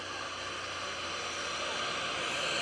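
A race aircraft approaches at the 2013 Greenwood Lake Airshow as a steady broadband engine roar that grows slightly louder over a few seconds, heard from a distance with no voices.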